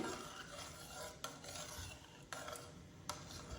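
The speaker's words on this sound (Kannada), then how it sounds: "ಈ ರೀತಿ ತಿರುಗಿಸ್ತಾ ಇರಿ ಒಂದೆರಡು ನಿಮಿಷ" Semolina being stirred in a thick-bottomed pan over low flame for a jaggery sweet, a soft continuous scraping rasp with a few sharp clicks of the spoon against the pan.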